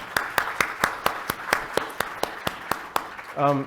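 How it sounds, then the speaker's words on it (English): A forum audience applauds panelists with a steady series of sharp, evenly spaced claps, ending as a voice begins. "a big warm round of applause to Kun Vudikon, Chris, and Christine"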